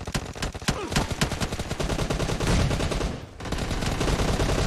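Rapid gunfire in the online shooter PUBG, a dense burst of automatic shots followed by continued firing after a brief pause, loud and close.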